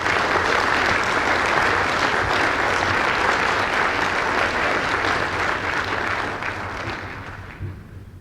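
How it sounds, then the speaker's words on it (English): Applause from a space development conference audience at an opening session, a loud, sustained roar of many hands clapping that holds for several seconds before tapering off near the end. "I hope you'll all join me in giving a great round of applause and warm welcome to Mike Coates."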